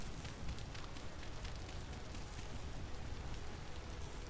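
Steady rain hisses down in the Vintage Story video game, a dense and even patter that goes on without a break. It sounds soft and fairly distant, with no voices.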